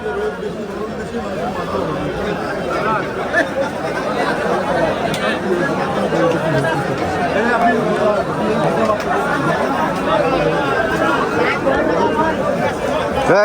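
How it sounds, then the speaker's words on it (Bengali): A dense crowd packs a cattle market before Eid al-Adha, with loud, continuous babble of many voices close around and nearby people talking over the hubbub. "ভাই রে ভাই হাটে ঢোকা যেতেছে না এত ভিড়"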